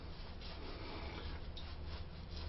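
A shaving brush works Kiss My Face shave cream onto the skin, making a steady, close, soft bristly rubbing and swishing that continues without a break and has no voices over it.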